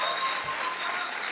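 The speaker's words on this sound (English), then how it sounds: "Round of applause." An audience at a high school poetry slam gives a round of applause, dense continuous clapping filling the room at a steady level throughout.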